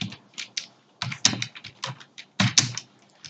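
Keys clatter on a computer keyboard while a program is typed out, in short bursts of quick clicks separated by brief pauses, close and clear with no talking.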